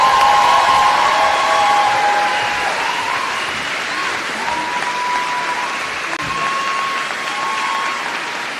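At a graduate recognition ceremony, an audience applauds a Master of Forestry graduate with loud, dense clapping and some cheering, strongest at first and easing slightly as it carries on, with a faint tone beneath it.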